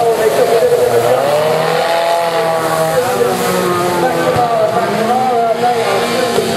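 A 10 horsepower sports powerboat racing down the river, its engine whining with rising and falling pitch as it passes through the centre, loud and steady with a commentator talking over it.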